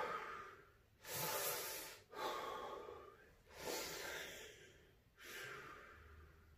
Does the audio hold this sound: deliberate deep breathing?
yes